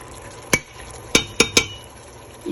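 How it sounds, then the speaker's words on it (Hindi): Aloo gosht masala with yogurt and ground browned onion is fried over medium flame, with several sharp clinks of a spoon against the pot over a soft background sizzle. "इसको हम थोड़ी देर के लिए ऐसी मीडियम फ्लेम पे भूनेंगे"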